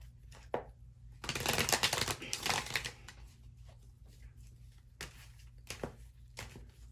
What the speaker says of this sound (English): So I want to put down all your cards.